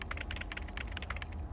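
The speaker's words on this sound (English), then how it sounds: "that typing sound is so nice" Steady, rapid keyboard typing with crisp, evenly spaced clicks over a low background hum, close and clear, with no talking.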